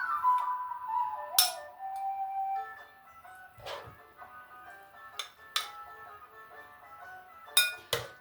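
Plates and cutlery clinking as a plate is served, a run of sharp, separate glassy clinks and scrapes spread over several seconds in a quiet room, with no talk.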